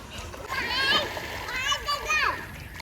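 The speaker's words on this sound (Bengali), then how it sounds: "বালিশ নিয়ে এসে কত রকম উল্টো পাল্টা স্নান করছে" Village children splash in water while swimming and bathing, using pillows as floats; irregular splashes close by, mixed with children's shouts and chatter.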